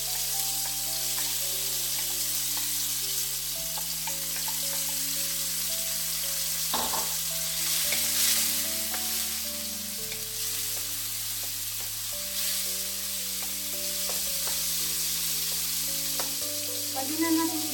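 Ground pork frying with tomato in a pan for vegetable lumpia, a continuous strong sizzle with stirring scrapes and occasional clacks of the utensil, close and steady for the whole stretch with no talk.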